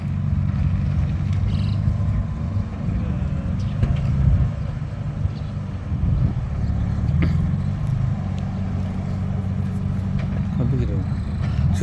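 A Toyota Supra rolls into a busy parking lot at a Supra owners' meeting at the Toyota museum, its engine a low, rumbling murmur close by while people talk over it.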